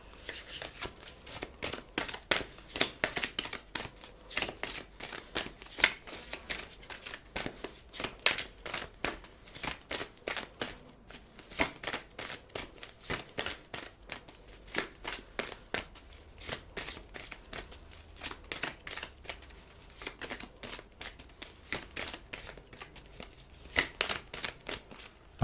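Tarot cards are shuffled for a card reading in a quiet room, giving repeated crisp riffling and slapping bursts in an uneven rhythm, close and fairly soft, with no talk.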